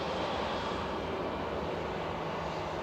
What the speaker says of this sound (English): We've got Ryanair on approach from Malaga.